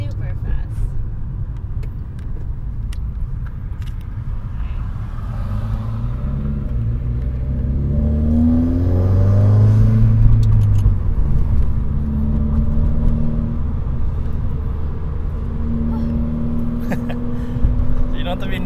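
A Subaru WRX with a Stage 2 Torqued Performance tune and manual transmission accelerates from inside the cabin, its engine drone rising in pitch through the gears under steady road rumble while people talk.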